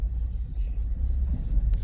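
A car engine idles steadily during a first driving lesson, a low continuous rumble close by with no one talking.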